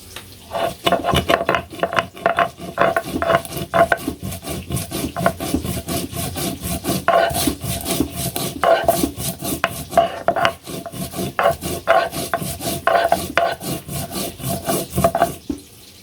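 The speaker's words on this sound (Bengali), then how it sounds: "সব কিছু বাটনা বাটনি হয়ে গেছে" Spice paste being ground by hand on a traditional grinding stone in a home kitchen, a steady back-and-forth rasping and rubbing of stone on stone, close and continuous with a regular rhythm and no talking.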